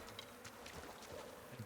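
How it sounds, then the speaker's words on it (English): In the survival game Icarus, a swarm of bees buzzes softly and continuously near a hive hidden in a wall, a low steady drone with small flickers. "I hear bees."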